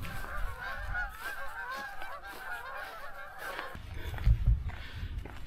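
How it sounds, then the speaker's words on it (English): A large flock of geese honking outdoors along the Cumbria Way, a dense chorus of overlapping calls at moderate distance that continues steadily, then thins out while low rumbling noise swells near the end. "That's a load of geese behind me,"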